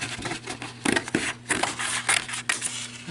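Scissors cut around the edge of a paper card in a few quick, close snips with crisp crunching cuts and short pauses between them, with no one talking.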